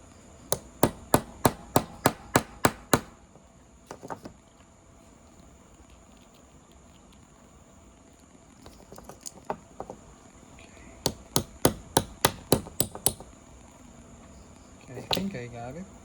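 Rapid bursts of sharp, light hammer taps on a part of a Transformers Seeker toy figure, struck in quick runs of about eight to ten blows with pauses between, close and crisp, with a few scattered softer knocks.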